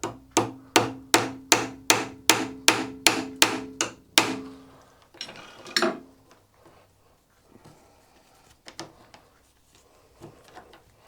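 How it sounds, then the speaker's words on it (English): A small, long-used hammer taps a lathe compound slide handwheel about ten times in a quick, even series of sharp metallic knocks. A few scattered, fainter taps and handling clatter follow. "My favourite hammer."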